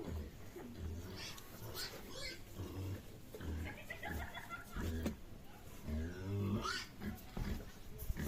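Pigs at a zoo grunt and oink in short bursts at close range, mixed with people talking nearby and faint background activity.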